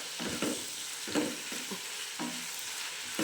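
Tomato gojju frying in a pan, a soft continuous sizzle broken by several stirring scrapes of a spoon, close and fairly quiet.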